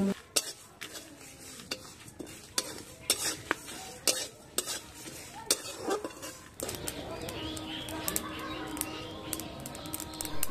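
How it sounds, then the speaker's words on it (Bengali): Whole mustard, cumin, coriander and fennel seeds fry in a wok with a steady sizzle, punctuated by sharp metal clinks and scrapes of a spatula; the frying grows denser and louder in the second half. "এগুলোকে হালকা করে একটু কড়াইয়ের মধ্যে এখন ভেজে নিচ্ছি"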